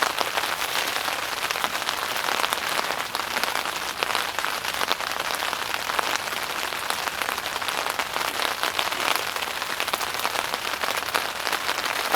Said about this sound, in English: Alright, well, it's raining enough now.